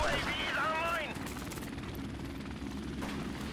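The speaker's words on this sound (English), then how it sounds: "Oh, nice helicopter. Saving my life." A helicopter in a first-person shooter video game thrums steadily through the whole stretch, with a brief warbling electronic tone at the start riding over the rotor noise.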